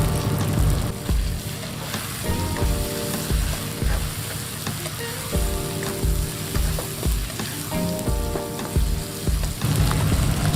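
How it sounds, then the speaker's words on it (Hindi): Ginger garlic paste frying in a pot of oil for chana pulao, a steady loud sizzle with scraping stirs and clinks of a spoon against the pot repeating throughout. "1 टेबलस्पून लहसुन अदरक का पेस्ट इसमें ऐड कर रहा हूँ।"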